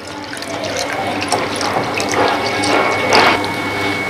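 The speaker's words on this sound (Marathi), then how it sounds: "परत एकदा पाणी टाकू" Water runs and splashes steadily into a container of lentils being rinsed, a continuous close rushing pour with small surges, no voices.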